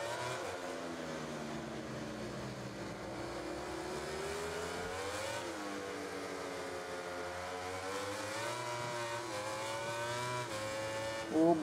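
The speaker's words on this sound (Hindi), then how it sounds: "ओ भाई गाड़ी की आवाज देखो इसकी यार, कितनी गंदी है, मतलब अच्छी है" A motorcycle engine in the racing video game MotoGP 19 drones loud and steady, its pitch rising and falling as it revs through gear changes, alone with no talk.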